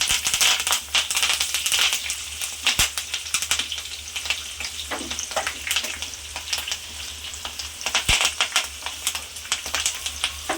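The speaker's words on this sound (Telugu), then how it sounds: "ఇప్పుడు పచ్చిమిర్చి కరివేపాకు కూడా యాడ్ చేసేస్తున్నాను" Green chillies and curry leaves frying in hot oil for a poha mixture, a dense, crackling sizzle with sharp pops and spattering bursts throughout, close and loud with no talking.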